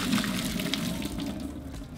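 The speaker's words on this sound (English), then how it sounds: "so drain the water" Hot water from boiled tomatillos and a tomato is poured off into a sink, a close, steady splashing gush that eases slightly over two seconds.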